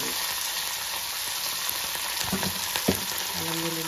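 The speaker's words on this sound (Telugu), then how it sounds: "ఇది కొద్దిగా పచ్చివాసన అయ్యేదాకా నూనెలో వేయించుకోవాలి. వేయించుకొని చిటపట ఆడుతుంటుంది" Ginger garlic paste fries in hot oil for a Telugu dal dish, a steady dense sizzle with small crackles and pops and a few soft stirring scrapes.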